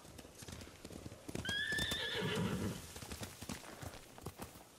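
Horse galloping and neighing in the samurai video game Ghost of Tsushima, rapid hoof clip-clops throughout with a loud whinny in the middle, fairly faint overall.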